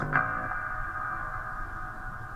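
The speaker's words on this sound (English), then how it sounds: "Decay just prolongs the reverb effect." A reverb effect set to a very long decay, with a brief attack near the start that smears into a sustained, slowly fading ringing wash lasting the full couple of seconds.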